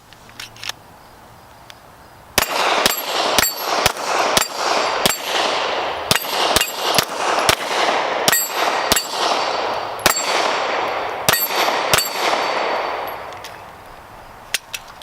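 Rapid pistol shots from a Smith & Wesson M&P 2.0 compact firing 124 grain full metal jacket with a 13-pound recoil spring, each sharp crack ringing off steel targets in a quick irregular string of about twenty hits, loud and close, no talking.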